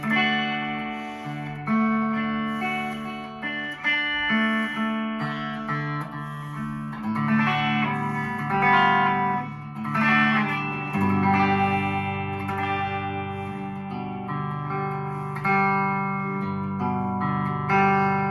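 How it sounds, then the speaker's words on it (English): A Ciari Ascender travel electric guitar rings out clean, chiming chords and sustained notes, strummed and picked with a bright, shimmering, reverberant tone. "beautiful, chimey, ringing, clean tones"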